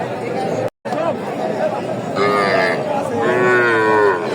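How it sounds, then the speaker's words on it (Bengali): Bulls and heifers, Sahiwal cattle at the Raniganj livestock market, give two drawn-out moos in the second half over a steady hum of crowd chatter and market noise. "সামনে দেখতেছেন প্রচুর চাহিদা সম্পন্ন ষাঁড় ও বকনা"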